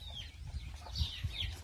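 Hens sitting on eggs in crates at a poultry farm give soft, close, short clucks and murmuring calls in a brief quiet moment.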